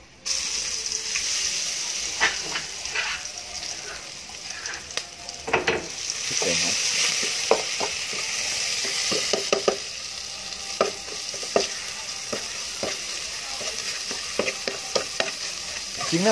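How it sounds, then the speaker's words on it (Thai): Garlic sizzles steadily in hot oil while a utensil scrapes and clacks against the pot, with a few brief words spoken in Thai, while cooking northern Thai kae curry. "เวลาเอากระเทียมเนี่ยลงไป ฆ่าน้ำมันก่อนนะครับ"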